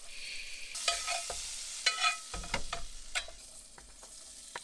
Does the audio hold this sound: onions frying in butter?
yes